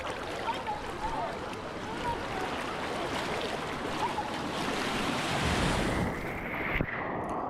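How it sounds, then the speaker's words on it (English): Ocean waves wash and roll continuously at a California beach, a broad steady roar with gusts of wind noise, ending in a sudden sharp cut. "Just let the waves crash over you."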